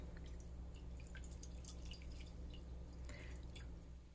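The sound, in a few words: water poured into strained tallow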